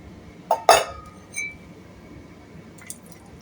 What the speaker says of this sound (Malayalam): നമ്മളൊന്ന് ഇനി പാത്രത്തിലോട്ട് മാറ്റുകയാണ്